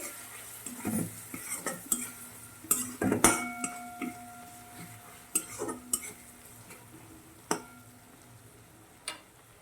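Spices such as garam masala and red chilli are stirred into mung dal in a metal pan, with scraping spoon strokes, clinks against the pan and a faint sizzle underneath.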